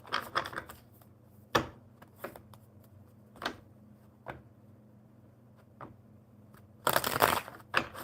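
Playing cards are shuffled in quick riffling bursts separated by isolated clicks and taps, close and fairly quiet, ending in a longer ruffling flurry.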